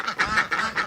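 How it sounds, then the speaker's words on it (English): Ducks on a home farm quack close by in a quick series of four or five nasal calls, loud and clear with no talking. "And these are my ducks"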